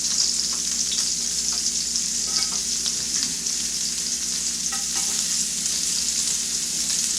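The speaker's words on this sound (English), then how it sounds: "we're going to go ahead and throw our shallots in there." Shallots sizzle steadily in a hot pan taken off the heat while cooking steak Diane, a dense, continuous frying hiss that stays loud and even throughout with no talking.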